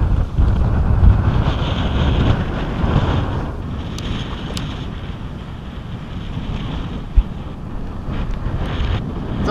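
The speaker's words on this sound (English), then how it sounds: "the wind is blowing like 25 miles an hour now" Strong wind of about 25 miles an hour blows over a fishing boat at sea, a constant loud roar and rumble with water washing beneath and faint creaks and knocks, without speech.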